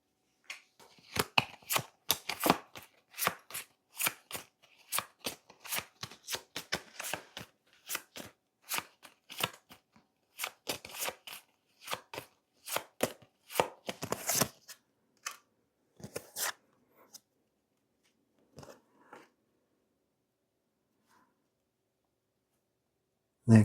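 Tarot cards being shuffled and drawn, a dense run of short crisp card snaps and slides for about seventeen seconds, thinning into a few scattered taps and then near silence, close and moderately loud with no talking.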